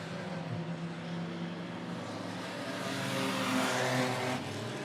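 Race cars battle side by side on the Monett Motor Speedway track in a feature race, engines droning loudly and swelling as they pass, heard from a distance without talk.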